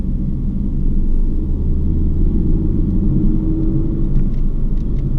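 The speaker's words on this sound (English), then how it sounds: "Accelerating through the corner, and it's tracking all the way out to the edge." A car accelerates through a corner on a race track with a loud, steady low rumble of engine and road noise held close throughout.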